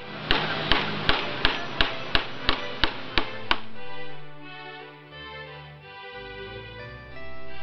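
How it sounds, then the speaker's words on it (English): A hammer strikes nails ten times in an even, quick rhythm, each crisp knock close and distinct, followed by a soft musical passage once the hammering stops. "You use a hammer to hammer nails."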